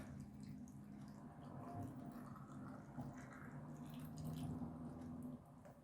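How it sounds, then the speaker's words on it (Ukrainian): Boiling water from a kettle streams into a jar of grapes with peppercorns, a steady close liquid pour that gurgles and shifts in pitch as the jar fills. "і заливаю кипятком закипів чайник і заливаю"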